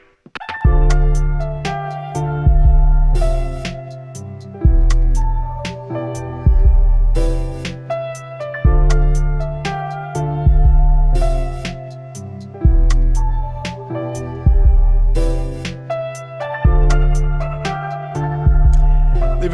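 A lo-fi music track built on pianos plays a looping chord progression with a heavy low-end beat pulsing in a steady, repeating pattern, loud and continuous.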